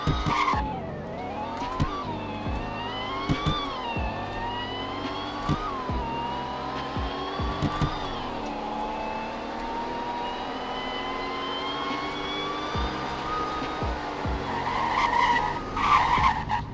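A video game car engine in the game Greenville accelerates through repeated gear changes during a speed test, pitch sweeping up and falling, with tire squeals and skids mixed in; continuous and near.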